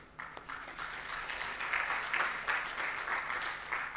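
Moderate applause from a room of people, steady clapping throughout at a fairly soft level, heard from a distance.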